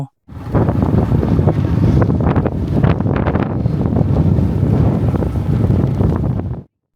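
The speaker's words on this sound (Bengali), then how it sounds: "অনেক বেশি বাতাস ছাতা ধরে রাখা যাচ্ছে না" Strong wind on a hilltop buffets the microphone in loud, continuous roaring rumbles and gusts, close and overwhelming, stopping abruptly at the end.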